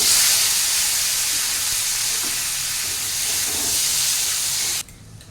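Tomatoes hit a hot pan for tomato curry, giving a loud, dense, continuous sizzling hiss that holds steady and then cuts off abruptly near the end.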